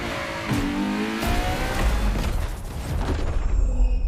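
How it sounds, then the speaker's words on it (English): A Ferrari LaFerrari hybrid engine in a racing game revs hard, a loud close rising howl with gear shifts and a brief tire squeal, no talk over it. "LaFerrari is the first Ferrari we have with an hybrid engine."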